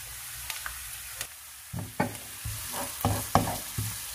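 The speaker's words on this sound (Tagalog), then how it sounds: "Haluin lang ulit natin" Ginger sizzling in a hot pan for chicken bopis, with a spatula scraping and stirring in several close, uneven strokes, the frying hiss swelling after each stir; no talking.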